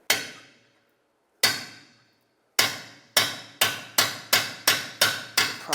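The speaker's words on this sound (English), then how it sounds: "Use a punch and a hammer, drive the bolt through the rest of the way." Hammer striking a punch to drive a bolt through the rear strut of a 2007-2010 Chrysler Sebring, sharp metallic blows, first slow and spaced, then quickening into a steady run of close, loud hits.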